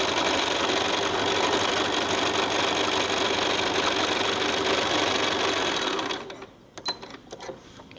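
A sewing machine stitches a quilting half-square triangle in one continuous loud, close run of rapid mechanical whirring lasting about six seconds, then stops abruptly, leaving faint handling clicks.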